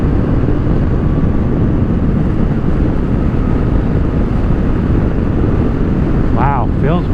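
Heavy wind roar buffets the microphone while riding a Honda Africa Twin motorcycle at a steady pace, a loud, constant rush that buries the engine, with a brief rising whine near the end.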